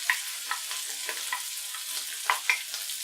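Garlic and shallots sizzling as they hit a hot pan of browning chicken, a quiet, continuous frying crackle with scattered small pops.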